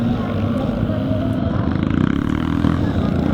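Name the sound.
Speedway-derived vintage motorcycle engines racing in scramble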